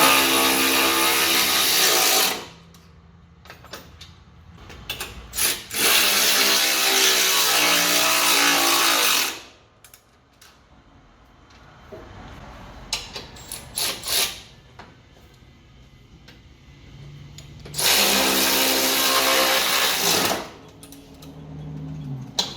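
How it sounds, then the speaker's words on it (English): Power tool with a 1/2 inch socket tightening mulch kit nuts on a Toro TimeCutter zero-turn mower, loud sustained whirring bursts separated by quieter gaps with clanks and handling noise, close to the microphone. "we have a 1/2 inch socket here, and we're going to go ahead and start tightening everything up"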